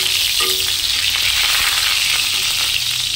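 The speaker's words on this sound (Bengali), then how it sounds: "তেলের মধ্যে আমি ফোড়ন দেব যে রসুন কটা কুচি করে রেখেছিলাম" Chopped garlic sizzles in hot oil, a tempering for cooked greens, with a loud, steady crackling fry that carries through without pause or voices.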